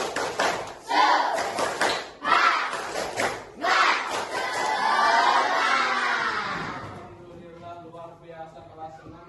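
Classroom of students doing a rhythmic 'tepuk semangat' chant, loud group voices shouting in unison with bursts of clapping for about seven seconds, then fading to quieter background.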